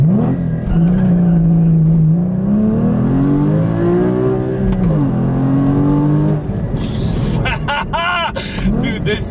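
A Porsche 981 Cayman GT4 engine pulls hard through the revs while driving on Miami roads, loud and close, with rising and falling tones, a brief dip near the end and sharp ticks or clicks afterward.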